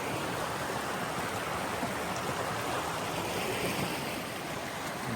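A wilderness creek in the Snowbird Wilderness rushes along in winter, a dense, even roar of flowing water that stays constant and close throughout.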